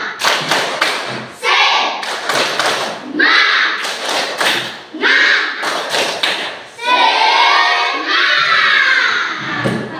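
Students perform a rhythmic tepuk semangat clapping chant in a classroom, sharp patterned claps and thumps alternating with loud shouted group chanting.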